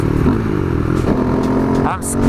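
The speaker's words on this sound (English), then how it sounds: "I put an airbox lid on, but can you hear that grunt?" A KTM Duke 390 single-cylinder motorcycle fitted with an airbox lid, its engine giving a steady close throaty grunt at roughly constant revs, with a brief lift in pitch near the end.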